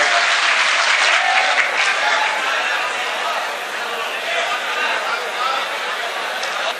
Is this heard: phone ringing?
no